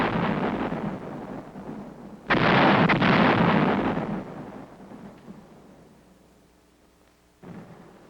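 A heavy artillery barrage pounds enemy hill positions in 1951 Korea, with deep rolling booms that swell and rumble on and on, loud but somewhat distant, then a fresh blast near the end.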